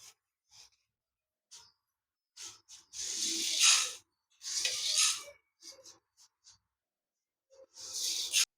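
Urad dal and drumstick leaves are dry-roasted in a pan, giving intermittent hissing, rustling scrapes in short and longer bursts separated by silence, with no talking.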